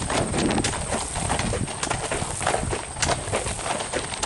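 Horse hooves clip-clop steadily at the stabling area for Acadia carriage rides, a continuous mid-distance patter of steps over broadband outdoor noise, with no talking.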